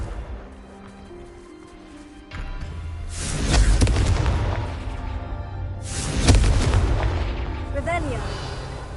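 Fire spell explosions burst in the Hogwarts Legacy video game, two heavy booming blasts several seconds apart, each rolling and fading with debris crackle over a low ambient background.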